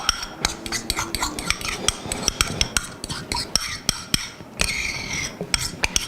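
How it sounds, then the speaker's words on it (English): A spoon stirs a kohlrabi dish in a pot, giving quick, irregular clinks and scrapes of metal on metal with a soft rubbing swish between them. The sound is close and fairly loud, with no speech. "Give this a quick stir."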